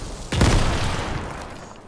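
Grenade blast in the video game Fortnite: a sudden loud boom hits after a brief quiet moment, then a broad rumbling wash decays slowly over the following second and a half.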